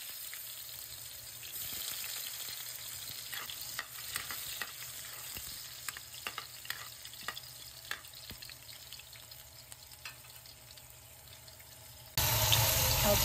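Ginger sizzles and fries steadily in a hot pan with occasional stirring clicks, a continuous close crackle that swells louder near the end.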